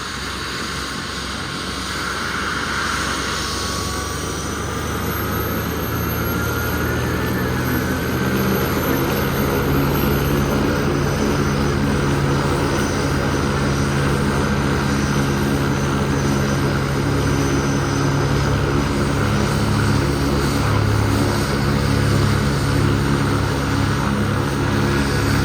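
A helicopter engine runs steadily with the pilot aboard, a continuous loud whirring drone with a broad roar that holds for the whole stretch, no voices over it.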